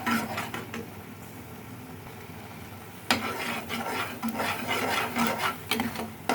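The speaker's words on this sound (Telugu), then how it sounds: "మాడకుండా కలుపుకుంటూ ఉండాలి." A spoon scrapes and rasps repeatedly through thick gravy of yogurt and water in a pan, kept moving so it does not burn, near and rhythmic with no voices.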